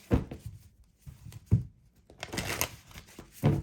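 Tarot cards are shuffled in several quick riffling bursts, with soft papery flutters and taps separated by short pauses, close by.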